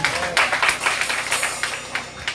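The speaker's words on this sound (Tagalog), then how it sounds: "Isa pa nga pong malakas na palakpak para sa Panginoon." Loud applause for the Lord at a church event: a room full of people clapping steadily and fairly close, with a voice faintly present under the clapping.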